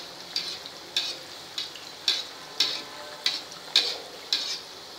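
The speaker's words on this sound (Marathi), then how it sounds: "आणि असे हळूहळू हे झाऱ्याने असं त्याच्यावर तेल उडवायचं आहे, म्हणजे ते सगळे सारखे तळले जातात" Sweet bhaji (gulgule) deep-frying in hot oil while a slotted spoon splashes oil over them, giving a steady sizzle with regular bright splashing bursts about once a second, close and moderately loud with no talking.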